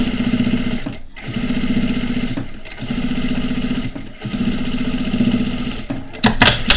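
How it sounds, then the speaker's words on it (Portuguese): A sewing machine stitches a seam on a small fabric bag made from half-hexagon pieces, running in loud, steady buzzing bursts with brief pauses between runs and a rattle of handling at the end. "E vamos então também fazer aqui uma costura para prender."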